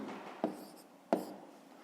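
A pen writes a numerical answer to a fifth-grade maths exercise on paper, with two soft taps amid light scratching close by.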